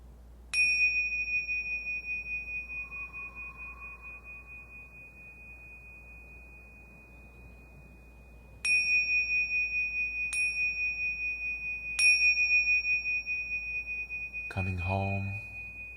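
A meditation bell rings four times with long, pure sustained tones that fade slowly, spaced across a quiet, calm stretch, followed by a soft low thump at the end.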